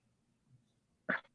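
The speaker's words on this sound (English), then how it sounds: "let me clear my throat." A single short, gruff throat clearing bursts out after a near-silent pause, close and fairly soft.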